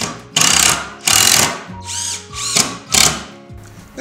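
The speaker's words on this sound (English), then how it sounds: "Position the leg and install the screws." A power drill drives screws into the leg of a wooden Leopold bench, with several loud close bursts of whining motor, each rising and stopping, separated by brief pauses.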